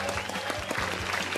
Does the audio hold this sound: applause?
yes